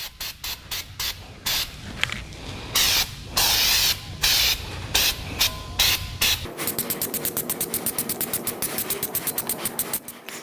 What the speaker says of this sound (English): I sprayed the Flex Seal, and I sprayed it really heavy.